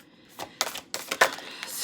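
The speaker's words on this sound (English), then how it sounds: "I lick my fingers because it's easier to grab the cards and shuffle them." Cards handled and shuffled up close in a few quick, crisp bursts of flicking and riffling, fairly quiet, with no speech.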